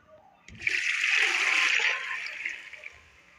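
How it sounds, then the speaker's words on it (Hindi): Three litres of water poured into a pressure cooker in a home kitchen while making partridge pulao, a steady rushing splash lasting over a second, then tapering to a trickle. "ये पानी डाल दिया है, 3 लीटर मैंने पानी डाला है"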